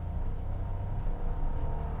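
A Toyota Raize's small engine strains as the car climbs an intermediate test incline, giving a steady low droning hum with vibration, continuous and fairly close, no voices.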